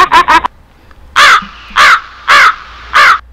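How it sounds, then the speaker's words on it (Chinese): Crow cawing effect played from a Kaxisi FX5 live-stream sound effects box: two quick caws, a pause, then four loud, evenly spaced harsh caws, close and clean with no talk. "乌鸦飞过"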